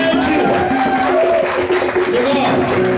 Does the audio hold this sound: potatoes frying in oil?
no